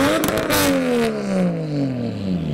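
A modified car with a Toyota 1JZ engine revs in a traffic jam, its engine note rising then sweeping down over a couple of seconds, loud and close amid surrounding traffic noise.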